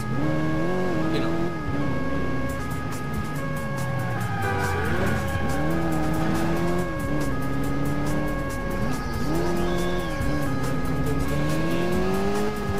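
A car driving in the police action game Alarm für Cobra 11, its engine droning loudly throughout with rising and falling revs and some tire squeal, while people talk over it.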